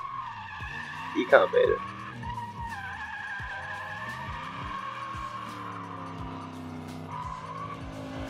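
A drift car's tires skid and squeal in a sustained screech, with engine tones sweeping up and down as it slides, a voice speaking over it briefly.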